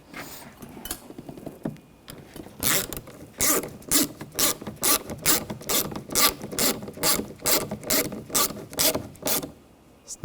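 Ratchet tightening screws on the door of a 2007-2013 BMW X5 during rear window regulator replacement: a quick run of close, loud clicking pawl strokes in steady bursts, with fainter handling before and after.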